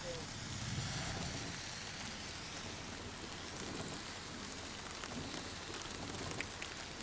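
Rain falls steadily during a gust front outdoors, a constant broadband hiss of drops on surfaces mixed with wind noise, recorded on an old 8mm camcorder with no speech.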